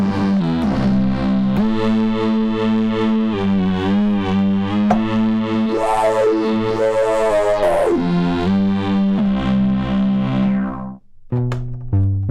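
A loud distorted synthesizer lead plays a continuous melody with gritty sustained notes and swooping pitch bends, dropping out briefly just before the end.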